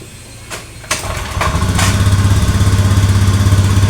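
A Honda Beat digital scooter with a blinking check-engine light and a sputtering fault is kick-started: a few kick thumps, then the small engine catches and settles into a steady, close, rhythmic idle.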